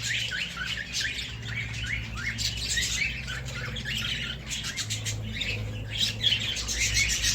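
Lovebirds and cockatiels in an Iraqi ornamental bird aviary squawk and chirp continuously, a dense overlapping chorus of sharp calls at steady moderate loudness, with a low steady hum underneath.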